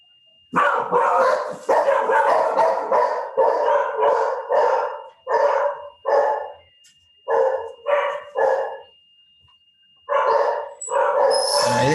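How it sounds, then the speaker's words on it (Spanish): Several female dogs bark repeatedly in loud, close bursts with short pauses between, some barks stretching into yelps or howls. "disculpen el ruido de las perras"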